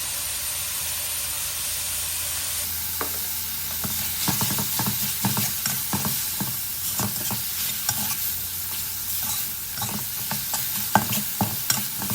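Minced pork with basil stir-fried in a wok, loud continuous sizzling and hissing with repeated scraping strokes of the spatula, close up, starting after a brief quieter moment.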